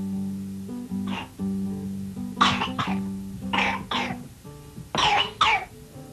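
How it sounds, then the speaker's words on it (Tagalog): A child coughs in several separate bursts spaced across a few seconds, some with a throaty, clearing quality, set against a steady low hum in a quiet home. "mukhang dumalala na ang ubo ng anak natin, ah."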